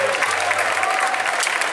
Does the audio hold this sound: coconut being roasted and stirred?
no